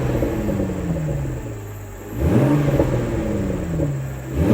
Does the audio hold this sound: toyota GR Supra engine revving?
yes